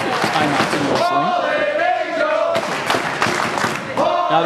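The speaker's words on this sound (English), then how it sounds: "Now the crowd chanting Fallen Angel" A wrestling crowd at a PWF New Jersey event chants "Fallen Angel" in loud, rhythmic unison, filling the room with sustained voices and scattered shouts.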